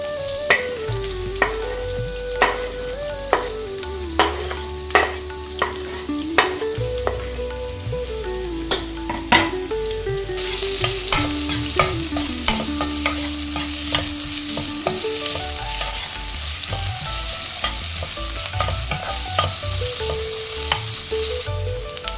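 Chopped onions sizzle in hot oil in a pan for a chicken pepper fry, a steady crackling hiss punctuated by sharp metallic spatula taps and scrapes at an uneven rhythm, close and without speech.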